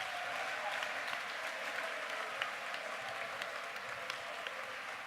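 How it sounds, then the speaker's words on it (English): An audience at a college essay contest gives the presenters a round of applause, a sustained even patter of many hands heard from a little distance, fairly quiet and steady throughout with no voices. "I'd like to ask you guys to give these guys a round of applause for presenting."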